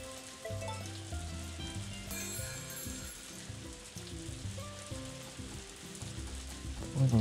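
Rain in the farming video game Story of Seasons: A Wonderful Life, a steady hissing patter under soft background game music, continuous and moderate in level with no speech.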